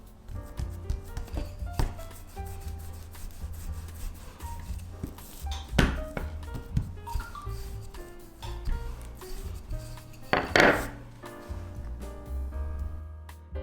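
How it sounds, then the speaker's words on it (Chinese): A wooden rolling pin presses out, folds and re-rolls flaky pastry dough for crisp flatbreads. The sound is a scatter of soft knocks and taps on the board, with a few sharper thuds. "用擀面杖稍微擀扁一点， 然后叠起来再擀开"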